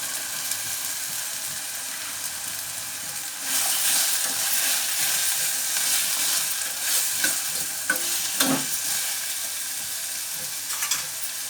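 Boiled peas stirred into brinjal curry frying in a pan, with a constant bright sizzle that swells partway through and repeated scraping stir strokes near and loud, no talking.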